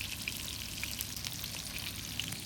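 Rava-coated fish (pomfret, surmai or bombil) frying in oil on a tawa at a farmhouse gives a steady, close, bright sizzle with scattered pops and crackles, alone and with no voices.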